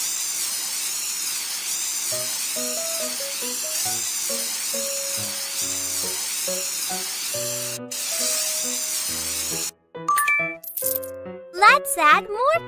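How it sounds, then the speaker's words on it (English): In a kids' horse hair salon game, a long steady spray hiss runs under cheerful music with a brief break, then gives way to bright rising chimes and bouncy tones. "Shake it and spray it."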